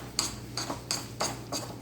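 A spoon or spatula mixes thick peanut butter cookie dough in a bowl, giving a steady rhythm of soft scrapes and light clinks about every third of a second, close and fairly quiet.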